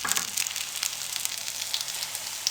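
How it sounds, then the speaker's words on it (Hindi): Chicken shami kebabs fry in a pan on low flame with a soft, steady sizzle dotted with small crackling pops throughout. "अब इसी तरीके से बाकी की शामी कबाब हम फ्राई कर लेंगे।"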